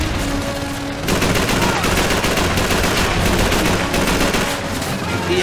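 Call of Duty 3 battle gunfire rattles in dense bursts, loud and close, with rapid automatic shots layered over a constant din of combat.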